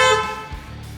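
A CUPRA Formentor's horn sounds in one bright, steady toot close by, fading out quickly after about a second, with no other sound around it.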